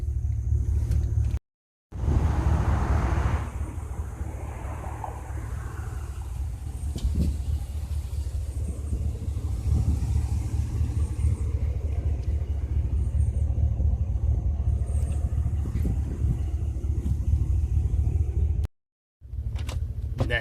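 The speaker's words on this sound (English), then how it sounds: "I'm going to show you this vehicle that I'm test driving right now." A truck on a test drive, heard from inside as a steady low engine rumble and road noise, with brief dropouts near the start and end and no talking.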